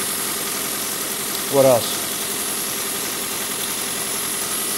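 A 2017 Hyundai Ioniq engine idles steadily after a timing chain repair, a constant close mechanical hum and vibration throughout, with someone speaking briefly over it.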